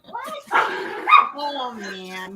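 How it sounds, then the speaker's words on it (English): A dog named Max gives short yappy barks and whimpers, close by, mixed with a person talking at the same time. "I don't know if you heard Max barking"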